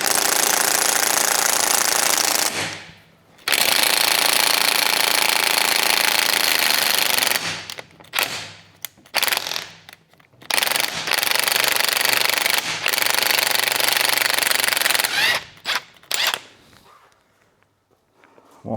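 A power tool hammers off a suspension centre nut in loud, close bursts of rapid rattling impacts, a long run followed by several shorter ones with brief silent gaps between them, and no talking.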